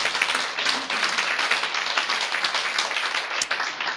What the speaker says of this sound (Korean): 자, 다시 한번 박수로 주님께 영광 드립니다.